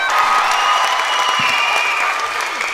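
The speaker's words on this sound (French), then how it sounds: "Bravo, on applaudit Lionel bien fort" Audience applause and cheering for a performer named Lionel at a TIMAMBO 2014 show, a steady dense wash of clapping with crowd voices mixed in, loud and sustained throughout.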